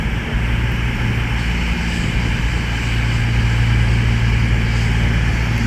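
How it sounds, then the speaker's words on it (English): A train at Watford Junction station on the West Coast Main Line gives a loud, close, continuous low engine rumble and drone that holds steady throughout, with no voices. "the 1408 Avanti West Coast service from Birmingham New Street to London Euston is departing"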